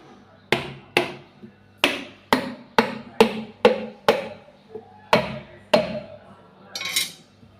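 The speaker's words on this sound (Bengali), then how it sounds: "এই যে এখানে নাইকেলগুলো ভাঙানো হচ্ছে" Coconuts being cracked open outdoors: about a dozen sharp, hard whacks spaced unevenly, each ringing briefly with a woody thud, with a faint murmur of voices between strikes.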